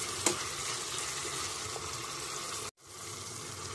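Chopped onion and garlic with bilimbi sautéing in a pan, a steady close sizzle with one sharp clink early on, briefly cut out near the end before the frying hiss resumes; no one speaks.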